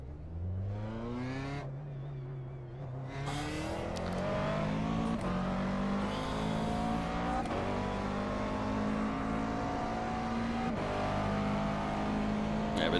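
McLaren MP4-12C GT3 race car in iRacing at Bathurst, its engine revving up through the gears with rising then falling pitch, loud and continuous, with brief drops at the shifts and no talk over it.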